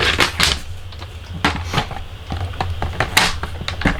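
Basic gray material being cut to size, a run of sharp, close cutting snaps and scrapes coming in quick irregular bursts over a steady low hum.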